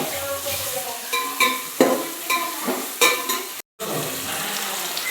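A pan of food fries with a bright, constant sizzle while a spoon stirs and scrapes it in repeated strokes. There is a brief dropout near the end, and no one talks.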